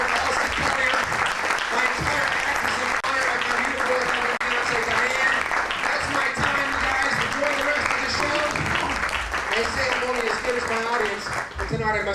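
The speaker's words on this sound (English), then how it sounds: "Give yourselves all a big round of applause." A stand-up comedy audience gives loud, sustained applause at the end of a set, dense clapping with cheering and scattered voices mixed in, continuing without a break for about twelve seconds.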